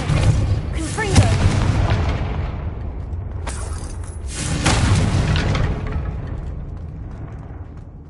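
A Confringo blasting spell explodes in Hogwarts Legacy, a deep booming blast that rolls on with a long rumbling tail, then a second heavy boom follows a few seconds later, loud and close.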